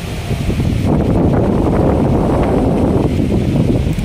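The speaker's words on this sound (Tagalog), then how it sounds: "malakas pa rin yung hangin" A strong wind at Manila Bay during a sudden rainstorm roars loudly and steadily against the microphone, with a brief lull before the gusting resumes.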